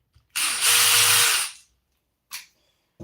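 A small power tool whirs for about a second, backing 2mm bolts out of an Arrma Limitless 8S RC car chassis, followed by a brief second burst, up close in a quiet room.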